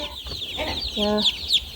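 Young chicks cluck and peep around a water trough on a chicken farm, a few short bright calls in quick succession, close and clear, with no talk over them.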